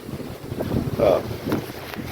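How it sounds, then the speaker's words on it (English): Strong wind roars and buffets the microphone in a steady, heavy rush with gusty swells. "It's so windy today."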